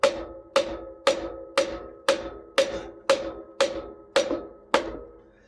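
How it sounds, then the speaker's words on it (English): A mallet strikes a piece of decking held against a wheel bearing protector to seat it, ten evenly spaced sharp wooden knocks about half a second apart, close and loud with no talk. "take my piece of decking here, put it up against there and hit it home with the mallet"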